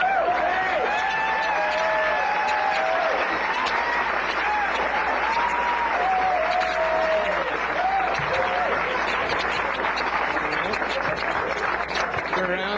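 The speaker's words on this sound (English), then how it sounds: "we'll get the big applause for him to get it rolling" Audience at a needle-swallowing stage show applauding a volunteer, dense sustained clapping with cheers and whoops from the crowd, loud and continuous, while a presenter's voice carries over it.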